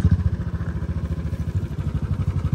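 A Royal Enfield motorcycle rides off-road on a slippery trail, its engine thumping in a fast, even low pulse, close and loud throughout.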